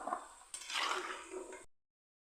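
Onion pakoda frying in hot oil gives a close, bubbly sizzle with a scrape of a stirring spoon, fading out after about two seconds.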